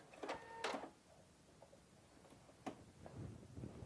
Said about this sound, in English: It will go ahead and stitch your pattern, touch your reverse button, it will finish it, lock it,